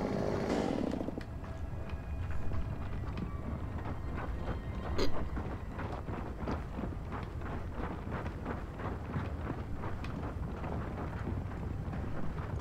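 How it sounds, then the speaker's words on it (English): A tram grinds along its tracks in the video game Gears of War 4, producing a continuous loud mechanical rumble with rhythmic clatter pulses throughout and a brief louder clank midway. "At least the tram's still on the tracks."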